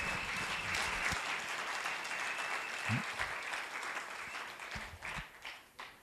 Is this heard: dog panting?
no